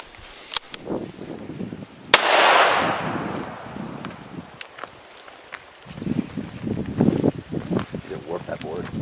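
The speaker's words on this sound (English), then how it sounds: "I'm just shooting here a PMC, just a cheap 357 Magnum with the exposed lead tip there" A single sharp gunshot from a cheap PMC .357 Magnum round with an exposed lead tip, fired outdoors during a penetration test, rings out loud and close with a long decaying tail, amid wind, footsteps and handling noise.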